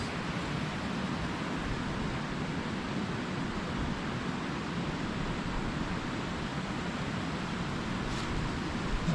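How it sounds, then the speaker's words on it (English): A creek flowing heavily through a backcountry campsite area in Cloudland Canyon State Park, Georgia, roars as a steady, dense broadband rush, loud and unbroken from start to finish with no voices over it. "Hopefully you can hear me with all this water noise. This creek is flowing quite heavily."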